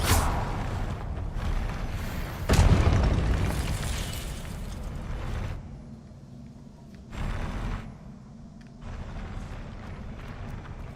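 Repeated blasting-spell explosions in Hogwarts Legacy, with a big boom near the two-and-a-half-second mark followed by further bursts and rumbling amid game sound effects and music.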